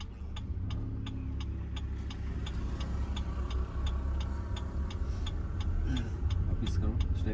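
Car pulling away in first gear during a driving lesson, a steady low engine drone with a regular ticking like an indicator running throughout, faint background sounds near the end.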